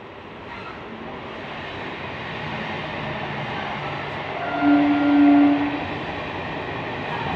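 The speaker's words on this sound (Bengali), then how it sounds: "ট্রেন যাচ্ছে ঘরের সামনে থেকে।" A train passes in front of a house, a low, steady rumble that swells near the middle with a brief tonal horn, then settles back to a constant drone.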